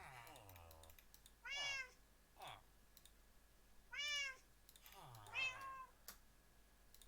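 Cats meowing indoors near a bed, several drawn-out meows spaced apart over a few seconds, fairly close and quiet, alongside light clicking sounds and brief bits of a person talking.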